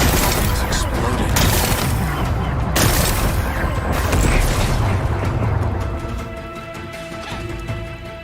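Explosions from blasting away rocks in Horizon Forbidden West, a dense run of loud rumbling booms and crackling bursts that stays heavy throughout, with voices talking over it.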